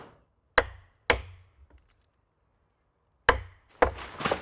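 Sharp wooden thwacks as a mallet drives a Le Taix artisan knife blade into wood, three single hits spaced apart, then a quick double strike with splintering crunch.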